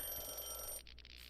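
A telephone rings loudly in Tales of the Black Forest, a steady electronic trill that stops abruptly about two-thirds of the way through, leaving faint room noise.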